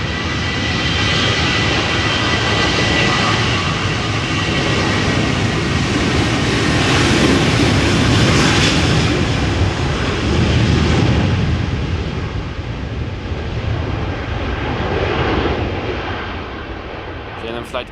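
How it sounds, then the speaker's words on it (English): Boeing 737-800 bound for Oslo spools up its engines on the runway threshold at Amsterdam Schiphol in gusty crosswind, a loud, steady roar that swells and rumbles for the full stretch before easing slightly toward the end, with a voice talking over it. "spooling up as we speak. This is a 737-800 going to Oslo."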